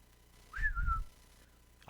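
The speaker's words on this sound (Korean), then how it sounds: "휘파람 소리 어떻게 나요?" A single clear whistled phrase of the Bridge on the River Kwai theme, a short rising then gently falling tune, sounds close by against a quiet background.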